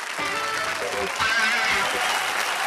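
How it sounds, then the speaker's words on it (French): TV studio audience applauds and cheers for a returning comedy troupe member, a thick continuous roar of clapping that swells partway through, with voices and whoops mixed in. "Merci d'applaudir l'excellent Alain Chabat."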